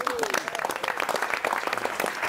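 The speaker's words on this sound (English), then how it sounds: "A round of applause." A press conference crowd claps in dense, steady applause, close and loud, with a voice briefly audible over it at the start.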